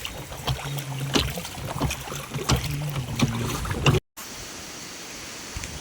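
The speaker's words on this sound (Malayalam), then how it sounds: "ഈ ബോട്ടിങ്ങിനെ തുഴയാൻ നല്ല പാടാട്ടോ" A wooden boat is rowed on the water at Gavi Kochupampa, with repeated oar strokes splashing nearby over a steady wash of wind and water, then a short cut to a softer stretch of flowing ambience.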